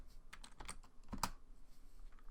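Quick keystrokes on a computer keyboard as a short word is typed, a handful of light close clicks in a brief burst, then quiet room tone.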